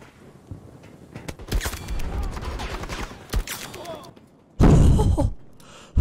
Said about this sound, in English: Let's go ahead and reload since we don't have that much rounds.